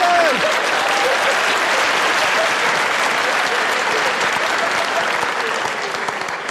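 Sustained audience applause, a loud, dense and even roar of many hands clapping that carries on without a break and eases slightly near the end, with a brief voice at the very start.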